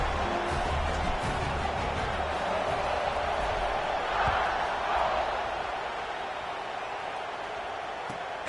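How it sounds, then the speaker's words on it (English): A college football stadium crowd, Alabama against Florida, buzzes after a touchdown: a steady, dense roar of many voices runs throughout, swelling briefly in the middle before easing slightly toward the end. "this crowd is buzzing after that last score"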